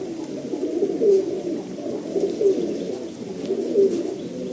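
Pigeons coo in soft, repeated low murmurs, steady and close, with a faint background hum and no talking.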